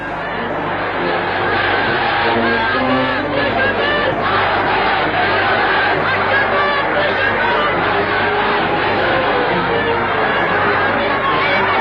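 Crowd of street demonstrators chanting and shouting, a loud dense roar of many voices that holds steady throughout, with no single speaker standing out.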